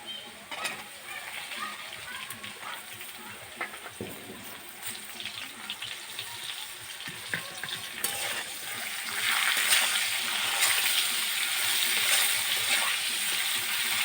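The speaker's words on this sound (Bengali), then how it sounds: "পটলটা দিয়ে আমি পটলটা খুব ভালো করে ভেজে নেব" Pointed gourd (potol) and potatoes frying in oil in a pan, a steady sizzle that grows denser and louder toward the end, with occasional stirring clinks and a voice speaking under it.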